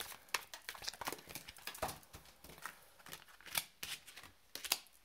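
Tarot cards are shuffled by hand in quick irregular riffles and slaps, soft and close, with no talk.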